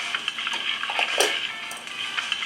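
Prawns sizzle steadily in hot oil, a dense crackling hiss with faint clinks of a utensil stirring in the pan.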